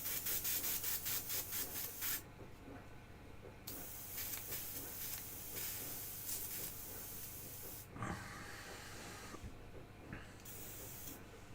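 A poorly maintained airbrush sprays in a continuous close hiss that sputters and cuts out in short gaps, then restarts with uneven, bubbling bursts.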